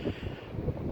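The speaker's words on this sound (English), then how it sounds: "The dang time I start to try to record video, the wind picks up." Wind buffets an outdoor microphone in low, steady rumbling gusts while parts are gathered for a van project, with no speech, a continuous roar throughout the short stretch.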